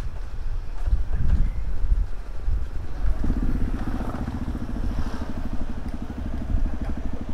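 A Yamaha WR155R motorcycle engine idles close by with a steady low chugging throb, preceded by some wind noise and light clatter.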